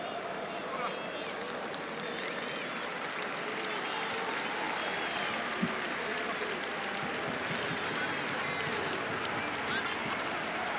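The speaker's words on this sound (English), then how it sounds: "Warm applause for Wabi Kazri" A football stadium crowd in a Saint-Etienne versus Rennes match applauds, a broad, steady wash of distant clapping and crowd noise with a commentator talking over it.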